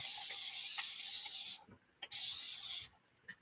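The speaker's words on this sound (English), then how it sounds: "should I spray this with water?" Two long bursts of hissing spray from a bottle, each lasting over a second, with a couple of brief squirts between them; close and fairly loud.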